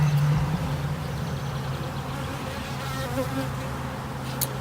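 Honeybees buzzing steadily throughout a beehive inspection in which several frames are being checked, the dense droning swarm sounding close and continuous with a low hum underneath and no talking.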